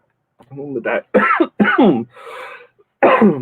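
A man coughs several times in quick, harsh bursts close to the mic, with a brief pause before one last cough.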